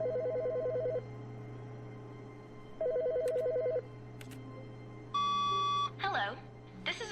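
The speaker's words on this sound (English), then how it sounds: "And there's another phone ringing." An office telephone in The Stanley Parable rings in three separate bursts, each a steady electronic trill lasting about a second, with a brief beep and a few faint voice-like sounds near the end.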